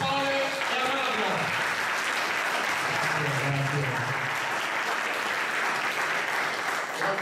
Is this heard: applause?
yes